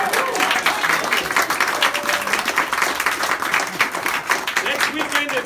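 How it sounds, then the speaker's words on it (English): Crowd applause at a Labor Day ice cream social and campaign gathering, with steady dense clapping mixed with scattered voices and cheers for a few seconds. "Let's give them a great round of applause."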